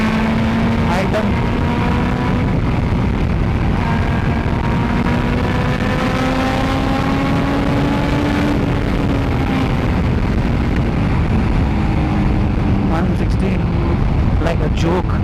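A carburetted superbike engine drones loud and steady while riding, its pitch climbing slowly then dropping and rising again, heavy wind roar underneath throughout.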